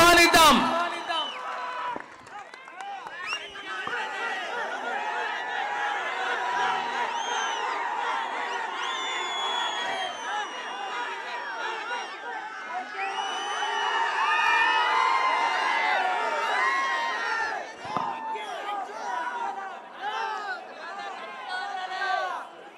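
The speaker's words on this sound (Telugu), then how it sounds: "మన పేర్ని నాని అన్నకి అందరూ కూడా కరతత్వాలతో గట్టిగా చప్పట్లతో ఆహ్వానిద్దాం." A large crowd at a political rally in Rajahmundry cheers and shouts for a speaker. Many overlapping voices whoop and call out continuously, with a louder swell toward the middle.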